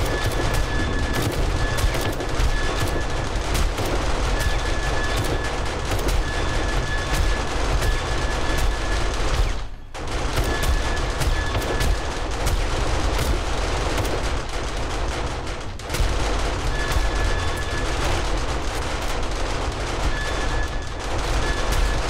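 Continuous loud automatic gunfire against a zombie horde in 7 Days to Die, rapid dense bursts filling nearly the whole span with two brief pauses, no voices audible.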